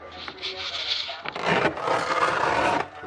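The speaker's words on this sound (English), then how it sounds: "So gonna have to fold back the carpet" Car carpet is folded back by hand during a key barrel removal, giving close scraping and rubbing rustles in short bursts that swell into a longer, louder drag near the end.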